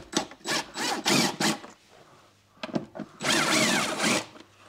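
Torx wood screws are backed out of a wall-mounted shelf in a workshop: several short, close mechanical bursts, then one longer steady run of grinding, clicking driving noise.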